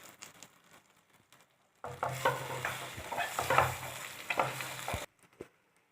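Dal stir-fried and mixed in a pan with fennel seeds already browned in oil: after a quiet start, a loud burst of sizzling with scraping stirs runs for about three seconds, then cuts off.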